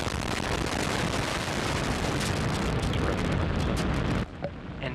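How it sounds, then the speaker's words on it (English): Antares NG-19 rocket lifting off from Wallops Flight Facility, a loud, sustained roaring rumble with crackling bursts that holds steady before dropping suddenly near the end. "We have lift off the Antares NG-19 launch vehicle from the Wallops Flight Facility."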